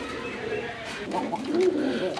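A pair of yellow Bombay pigeons coo softly and repeatedly, nearby, over a steady background hum.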